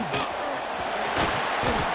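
Stadium crowd noise in EA Sports College Football 26 after a punt return, a loud continuous roar that swells into a cheer near the middle, with short thumping bursts and faint voices underneath.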